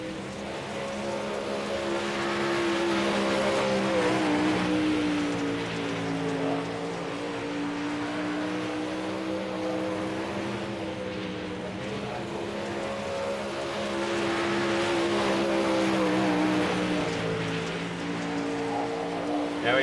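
Race cars lap a local raceway at a winter hometown racing event, engines droning and rising in a steady, sustained roar heard at a distance, swelling and fading as the cars pass.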